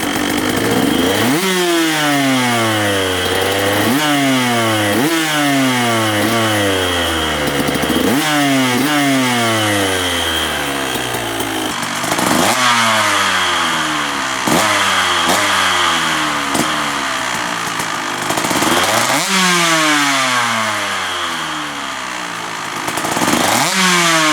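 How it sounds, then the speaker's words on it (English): A KTM 125 SX two-stroke dirt bike engine revs repeatedly and loudly nearby, each rev climbing sharply in pitch and falling back in a steady series of rhythmic bursts with no talking. "She's about warmed up now, so I can give her a rev."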